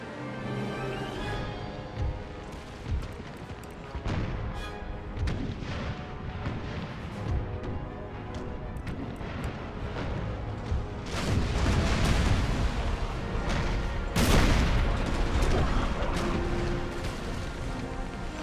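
Repeated heavy ship cannon broadsides in Empire: Total War naval combat, booming volleys rolling through most of the clip, growing denser and louder toward the end, with a few sharp cracks standing out.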